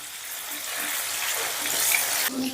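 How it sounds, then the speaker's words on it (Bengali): Paneer cubes frying gently in a pan on low heat, giving a soft, steady hiss and sizzle close by with no talking. "বেশি কড়া করে ভাজলে পনির কিন্তু খেতে একটু শক্ত হয়ে যায়, সেই জন্য হালকা লাল করেই আমি ভেজে নিচ্ছি।"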